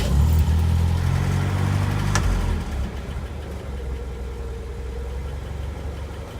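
A Scout 80 engine runs loud and close, a rough mechanical roar that drops after a couple of seconds into a steadier, quieter idle.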